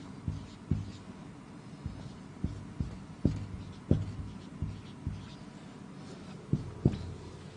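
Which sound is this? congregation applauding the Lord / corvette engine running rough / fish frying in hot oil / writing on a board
writing on a board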